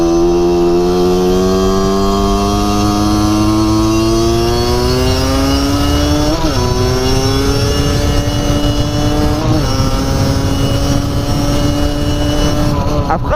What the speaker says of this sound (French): ça c'est les motos, ça c'est la 50 plus précisément.